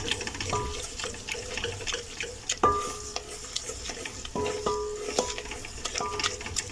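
Flour being stirred into melted butter in a pan over very low heat for a white pasta sauce, soft scraping and a gentle sizzle broken by several sharp metallic clinks of a spoon against the pan, close up.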